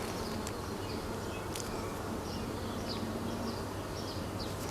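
Honeybees buzz steadily at an open hive, a dense, continuous hum close by with no talking.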